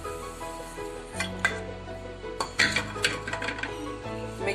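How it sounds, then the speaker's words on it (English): Spoon stirring a roasted semolina (suji) mixture with vegetable toppings in a metal bowl, scraping and clinking against the sides in irregular strokes with a few sharper knocks, close and clear. "Mix it properly with the toppings"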